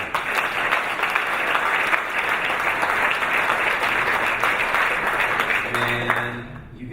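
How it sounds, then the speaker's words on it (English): Sustained applause fills a conference hall during a CEO forum, a dense and steady wash of clapping from a large audience that fades out at the end. "Big round of applause, everybody."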